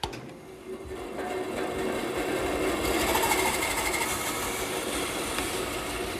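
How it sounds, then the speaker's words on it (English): A band saw cuts steadily through a wooden board during a circle-cutting job, giving a continuous, even mechanical whir that holds at a loud, close level for several seconds without talking. "Now you might have noticed that I'm cutting through my board, which actually forms my pivot point."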